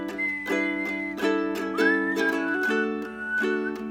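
A person whistles a melody over strummed ukulele chords, the whistled line steady and clear above the accompaniment, with no talking.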